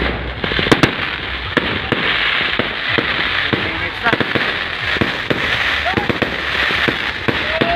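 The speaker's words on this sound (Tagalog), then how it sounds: "Tagal ng fireworks." Fireworks bang and crackle repeatedly against a steady crowd roar at a large outdoor political rally, with sharp pops scattered irregularly throughout and some whistling rises.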